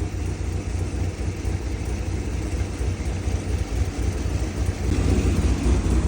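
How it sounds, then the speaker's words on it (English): A Corvette C7 Grand Sport V8 idling with a misfire on cylinder 7, a steady loud low rumble that swells slightly toward the end, with no talk over it. "So we got a cylinder 7 misfire."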